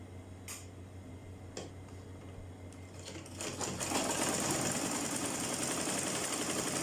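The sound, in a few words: sewing machine stitching turban fabric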